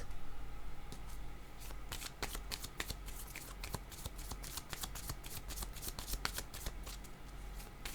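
Tarot cards being shuffled by hand at close range, a quick run of crisp papery riffles and flicks with sharp snapping taps in an uneven rhythm, fairly quiet and without speech.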